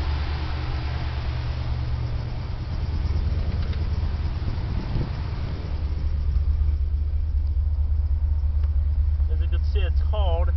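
A 1969 Camaro Z/28 with a 350 V8 idles just after a cold start, a loud, steady low rumble that holds constant throughout, with a few faint high chirps near the end.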